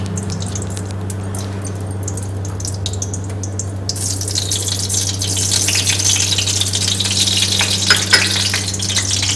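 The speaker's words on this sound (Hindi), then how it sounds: "ये आलू कट गए हैं, हम इनको फ्राई करते हैं।" Cut potatoes dropped into hot ghee in a kadhai, a loud steady sizzle rising sharply and staying bright and close, with no talking.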